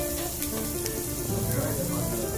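Samgyeopsal pork belly sizzling on a grill at a Korean barbecue restaurant, a steady bright crackle and hiss running the whole time with faint voices in the background.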